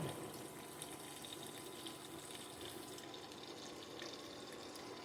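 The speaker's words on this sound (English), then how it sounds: "It may be time to do a little deglazing." Liquid poured into a hot pan to deglaze it while cooking rabbit, giving a steady, continuous sizzling and hissing wash of steam and bubbling, close and even in level throughout.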